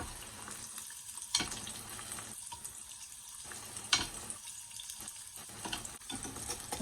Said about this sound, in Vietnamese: Mình chiên nha, mình tưới dầu lên cái nó phồng lên nè.